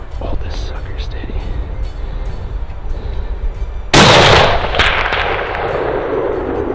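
A single loud, sharp hunting rifle shot cracks close by, with a brief rolling echo trailing off afterward, set against steady outdoor background noise.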